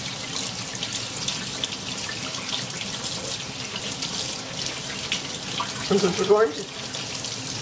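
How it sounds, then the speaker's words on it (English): Cold tap water runs steadily into a kitchen sink as a preserved lemon is rinsed under it, a continuous splashing rush with a brief louder burst near the end and a single spoken word. "So we're going to take lemon out under cold water."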